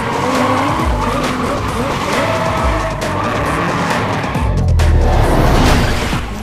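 Cars drift through tight corners in the racing video game GRID, tires squealing and skidding over loud racing engines, with a sustained screech building near the end.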